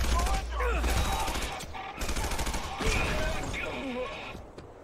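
Video game gunfire rattles in steady bursts through a dense, loud mix, with a voice talking over it.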